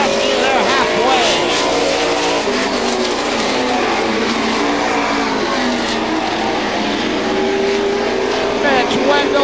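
Pro stock race cars race on a speedway at a night feature, engines roaring loudly and continuously with rising and falling pitches as they pass, while a commentator talks over the din.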